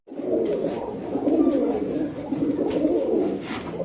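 Highflyer Giribaz pigeons coo close and loud, overlapping low rolling calls that swell and ebb across the whole stretch, with no talking.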